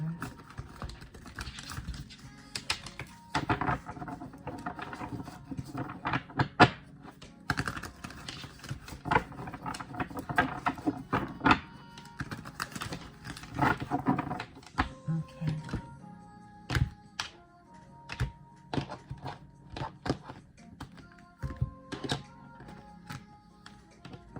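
Tarot cards being shuffled produce a long run of soft irregular taps, riffles and clicks, close by and fairly quiet, with occasional sharper knocks.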